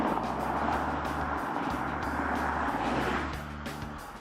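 A Bentley Bentayga drives at speed with a steady, close engine and road roar, towing another vehicle behind it, easing off slightly toward the end.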